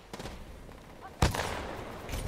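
Titanfall 2 gunfire rattles in quick bursts, with a sharp loud shot cracking out midway followed by more rapid firing, close and punchy over faint background game noise.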